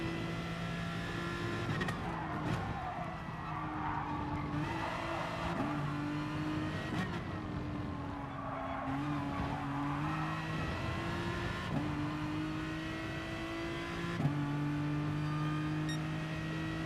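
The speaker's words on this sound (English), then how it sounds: "listen to the tires screech when I slam the brakes on" Tires screech under hard braking of a race car in GT Sport, long wavering squeals over a steady engine drone that repeat several times as the car slows through corners.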